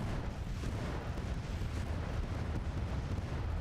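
Cannons firing on a Civil War battlefield in the strategy game Grand Tactician, a dense, continuous rumble of overlapping booms and blasts with no pauses and no talk.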